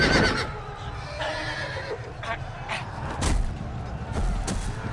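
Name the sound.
horse neighing in the video game Telltale Game of Thrones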